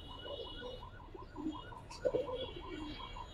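A pair of old-line Giribaz pigeons coo softly in a repeating rhythm, low rolling calls pulsing steadily at close range over a faint background hum.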